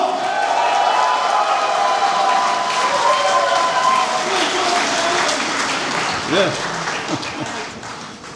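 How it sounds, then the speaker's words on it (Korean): Crowd applause at a Daegu mayoral campaign event, dense clapping mixed with cheering voices and a tonal hum, easing off after a brief shout near the end. "여러분 다시 한번 뜨거운 박수 부탁드리겠습니다."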